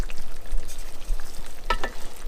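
Mushrooms frying in olive oil and butter for chicken scallopini, a soft continuous sizzle with a low rumble beneath and a brief scrape or clatter near the end, close with no talking.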